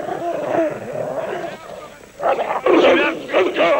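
A dog yips and whimpers close by during a training exercise, short excited barks mixed with people talking over it.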